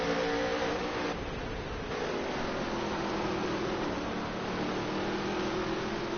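Dirt track race cars in a touring series championship drone steadily around the oval, a muffled, distant engine roar that holds constant with slight swells, no voices on top.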